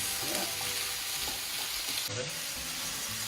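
Carrots and onions sizzle in a pan, a dense continuous frying hiss with soft stirring scrapes and clatter throughout.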